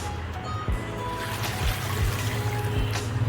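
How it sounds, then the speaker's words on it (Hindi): Water pours steadily into a cooking pot for beef pulao, about ten glasses' worth, a continuous close trickling splash with faint low thumps and no talking. "तकरीबन हमने 10 गिलास पानी डालना है इसमें"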